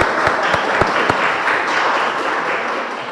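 Audience applause at a podcast taping in Indonesia comes as a few distinct claps at first, then swells into a steady, continuous round of clapping.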